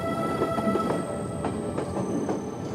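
Train rolling along rails on a refugee route out of Novska, Croatia, in 1993, a steady continuous rumble with faint rhythmic clicks from the wheels and no voices.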